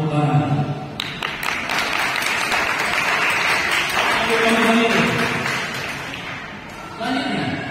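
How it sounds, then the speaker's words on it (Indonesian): Congregation applause at an Indonesian church service, a loud sustained burst of clapping from many people that carries on for several seconds before thinning out. "Tepuk tangan."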